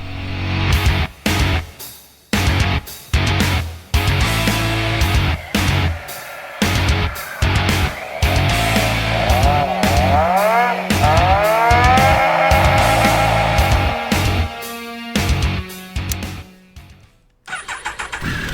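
A 2002 Triumph Daytona 955i sport bike starts and is ridden, its engine loud and close, with choppy revs, gear changes and rising and falling pitch, then a surge of acceleration before the sound drops away near the end.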